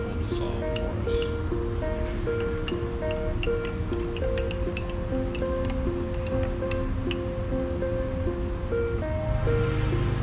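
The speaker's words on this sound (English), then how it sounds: "then we're going to give this a stir so that it will dissolve for us" A stirring rod clinks repeatedly against glass while mixing a solution for a silicone polymer experiment, with light, irregular taps spread evenly throughout over a steady background hum.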